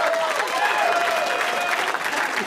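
A studio audience on a late-night talk show breaks into steady applause, a close, continuous clatter of clapping with a faint tonal whine threading through it.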